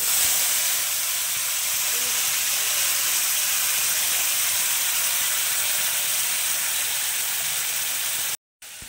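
Ground masala paste goes into hot oil with mustard seeds and curry leaves for a South Indian fish curry, a loud steady sizzle and hiss close by that cuts off briefly near the end.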